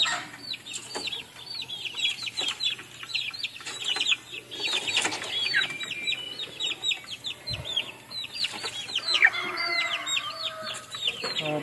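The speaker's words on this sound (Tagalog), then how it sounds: "oh, tandang din to." In a backyard flock, a rooster and hens cluck and call in scattered bursts, with occasional wing flapping and short crowing phrases, fairly close and at moderate volume, without talk.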